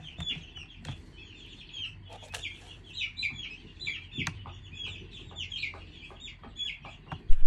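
Young meat chickens cluck and peep in a brooder, a busy overlapping chorus of soft chirps and clucks with occasional sharp knocks, fairly quiet and close.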